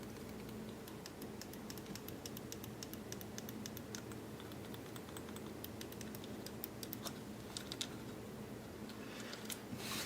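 Game Boy Advance shoulder button, freshly cleaned with contact cleaner, clicks repeatedly in quick irregular bursts, small sharp plastic ticks heard close and faint against a quiet background.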